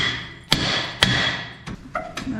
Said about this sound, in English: So I'm gonna smack it on the side right here with a hammer and see if it'll break it loose.